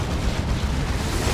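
A nuke going off in Dawn of War 2, a dense, loud, roaring blast rumble that fills the whole moment without a break, heavy in the low end.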